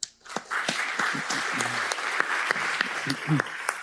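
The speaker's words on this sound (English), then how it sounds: "So we would like all of the people in the program committee to please rise and receive an applause." Applause at the closing session of a conference as the program committee stands, a steady patter of many hands clapping in a room, moderately loud and sustained throughout.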